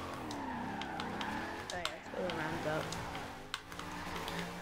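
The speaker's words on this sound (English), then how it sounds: "I'm gonna drift this roundabout" A car drifts around a roundabout in Forza Horizon 2, its engine note rising and falling under wavering tire squeal, with someone talking over it and scattered keyboard-like clicks throughout.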